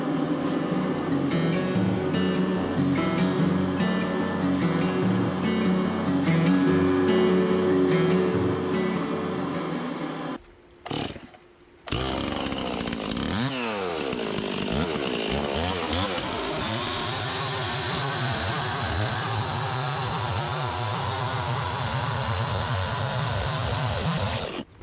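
A spalted maple log is split down the middle with a loud, steady chainsaw, a continuous engine roar that breaks off briefly and then resumes as the chain cuts.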